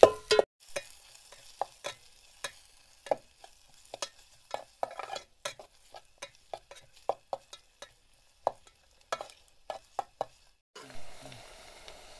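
Onion sautéed in oil for masale bhaat is stirred in a pan, a quiet bed of frying under frequent sharp scraping and tapping strokes, ending in a short burst of louder sizzle.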